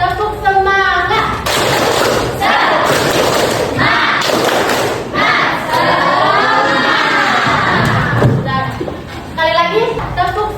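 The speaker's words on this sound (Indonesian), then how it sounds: "Sekali lagi, tepuk semangat" A school class claps in sharp rhythmic bursts while voices chant "tepuk semangat" together loudly, the beats and shouts repeating in a steady pattern.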